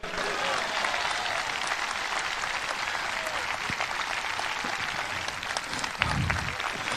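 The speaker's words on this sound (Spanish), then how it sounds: "Dale un aplauso a Cristo y voy a terminar." Sustained congregational applause during an evangelical sermon, a full, even roar of many people clapping for several seconds, with a few faint shouts and voices mixed into the crowd noise.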